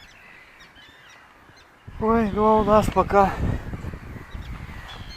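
Tiny downy waterfowl chicks peep in a rapid, high-pitched chorus close by on the water, rising suddenly after quiet wind and continuing under a person's talk.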